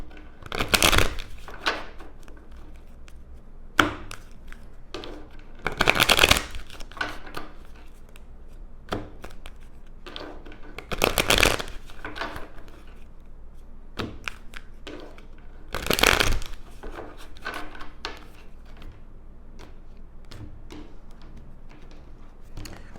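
Cards riffle and snap in four quick bursts spaced a few seconds apart, with softer taps and handling sounds between, close and clear.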